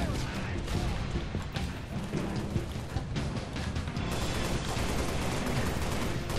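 Rapid gunfire in a video game, dense crackling bursts that run almost continuously at a loud level, with a voice faintly underneath.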